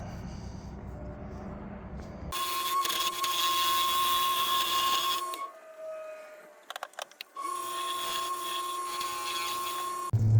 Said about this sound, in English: then we'll drill the hole